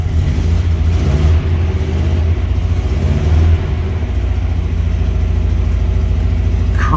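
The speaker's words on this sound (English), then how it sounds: "Let's put the key in and fire this baby up." A 1970 Volkswagen Karmann Ghia engine on an icy cold start settles into a steady low idle, loud and close, with a brief rise in revs early on and no talk.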